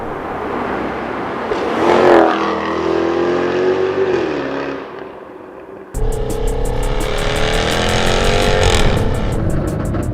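A car engine revving and accelerating hard on a test drive, loud and close, the pitch climbing and dropping through gear changes, then a sharp cut to another steady, buzzing high-revving engine run.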